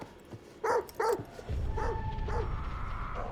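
A dog in the video game The Devil in Me gives two close, sharp barks, then fainter yips and whimpers over a low rumbling ambience.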